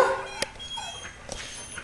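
Two short, faint yips from a small dog, spaced about a second apart, over quiet room tone.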